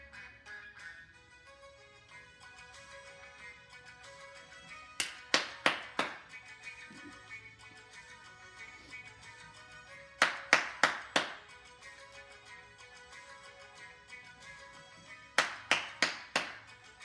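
Three bursts of four quick, sharp hand claps, keeping time with the music playing in the background.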